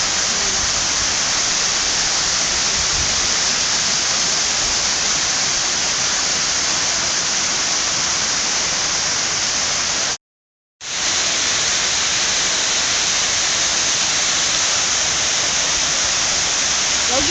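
Water flowing from a fountain in Subong Park: a loud, close, continuous rushing splash with one brief total dropout partway through, and no voices.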